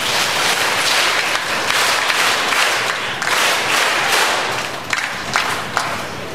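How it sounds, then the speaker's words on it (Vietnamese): Sustained audience applause at a Catholic parish gathering in Vietnam, many hands clapping densely and steadily with a few sharper, louder claps standing out near the end. "Cho một tràng pháo tay."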